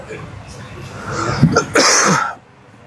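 A man gives a few harsh coughs and throat-clearing bursts at close range amid some speech, then falls quiet.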